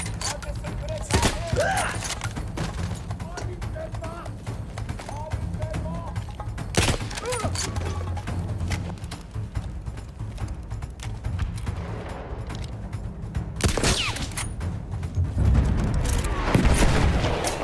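Battlefield 1 campaign gunfire rattles through a dense battle scene: repeated shots, booms and bursts layered over a constant rumble, with voices shouting in the background amid the near and distant firing.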